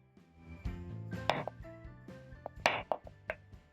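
Knife slicing peeled potatoes into long strips on a board, with irregular soft thuds and a few sharper clacks against the surface, fairly close, with no talking.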